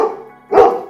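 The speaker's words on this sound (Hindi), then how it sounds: "सिम्बू, अगर तू भौंकेगा तो।" A dog lets out a single sharp bark, loud and close, following a softer whine-like tone.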